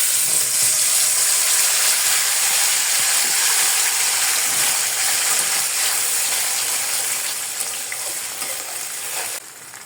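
Green banana peel paste frying in oil in a wok makes a loud, continuous hissing sizzle that fades gradually toward the end, with faint stirring scrapes underneath.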